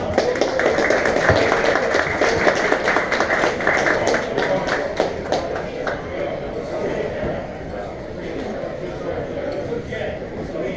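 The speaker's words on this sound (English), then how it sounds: "round of applause for Melissa" A crowd at a tech talk applauds a presenter, steady dense clapping throughout that gradually thins and softens toward the end.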